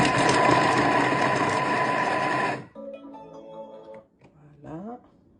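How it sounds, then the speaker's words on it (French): A Thermomix blending couscous ingredients at speed 5 for three seconds, a loud, dense whirring burst that stops abruptly, followed by quieter clicks and a short voice. "on va mixer 3 secondes"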